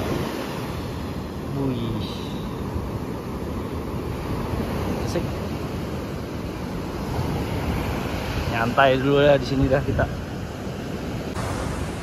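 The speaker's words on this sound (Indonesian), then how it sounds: "Inilah suasana pagi di Pantai Kuta ya, jam 6." Early-morning ocean surf on Kuta Beach, Bali, a steady wash of waves and wind noise filling the scene, with people chatting casually in the foreground.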